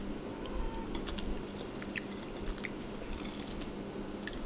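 Close, soft chewing of a karaage-like fried snack with kimchi, wet squishy bites and faint crunches repeating irregularly over a low background hum.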